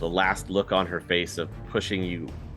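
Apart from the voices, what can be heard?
No everyday noise stands out behind the speech.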